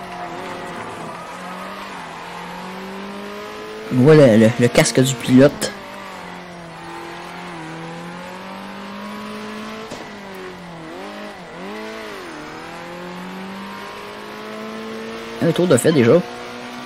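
Small racing cars in the video game Circuit Superstars whine loudly with engine notes that rise and fall as they accelerate and corner; someone talks briefly over them twice.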